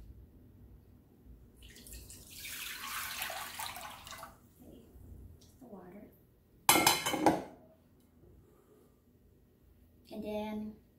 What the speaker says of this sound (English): I'm gonna pour the water in.